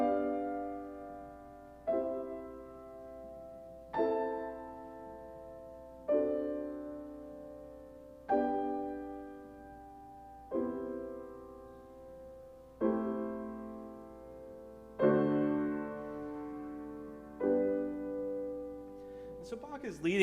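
Piano chords from a Bach piece are struck one at a time, about every two seconds, each ringing out and decaying before the next. The playing is clear and close, with nothing else heard.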